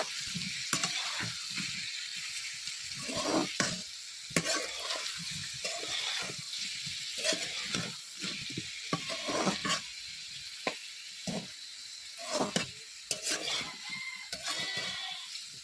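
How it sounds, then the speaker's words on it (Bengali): Ginger, garlic and coriander powder being stir-fried in a pan, with repeated scraping strokes of a spatula over a soft sizzle, close and rhythmic. "আদা রসুন আর এক চামচ ধনে গুঁড়া ভালোভাবে করে কষিয়ে নেব"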